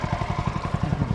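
A small engine-driven fertilizing machine working in a chili field, a steady throbbing motor with rapid regular pulses, close and continuous without talk.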